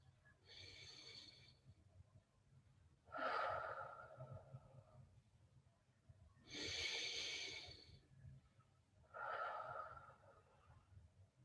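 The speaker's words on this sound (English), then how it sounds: "take 3 nice deep breaths to help us relax into the posture" Four slow, deep breaths during a guided meditation session, each a soft, airy inhale or exhale of about two seconds with quiet pauses between, close and faint, with no talking.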